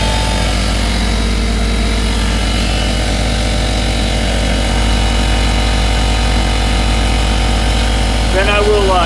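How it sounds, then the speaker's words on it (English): Air compressor powered through a vehicle inverter runs as a loud, steady motorized drone with rapid pulsing, close and continuous, with a brief higher squeaky sound near the end. "I'm going to turn the compressor on."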